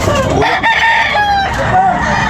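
A rooster crows loudly and close at a busy chicken market in Tabunok, Talisay, Cebu, its long wavering call rising over clucking fowl and steady crowd noise.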